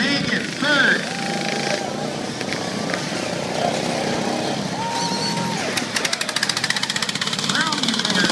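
Small racing lawn mower engines buzz and rev as they round a corner during a stock heat at the Kindersley lawn mower races, rising and falling whines under an announcer talking throughout.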